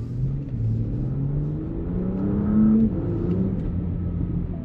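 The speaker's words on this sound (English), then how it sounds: "Distinctive V6 sound, and at times you get like a little burble and stuff" A car's V6 engine revs and climbs through the gears, its pitch sweeping upward in smooth rising runs with a throaty exhaust burble, close and steady with no talk.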